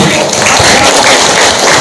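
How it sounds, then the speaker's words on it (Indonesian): A seminar audience keeps up dense, continuous applause, many hands clapping at once in a steady roar throughout. "tepuk tangan untuk itu semua"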